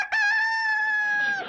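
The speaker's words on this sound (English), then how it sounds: "Earl's my rooster." A rooster named Earl crows once, close and loud, with a long sustained harmonic call that trails off at the end. No talk over it.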